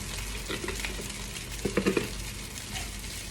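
Fried rice sizzles steadily in a hot pan while a utensil stirs it, giving a few soft scraping clinks in the middle over the constant frying hiss.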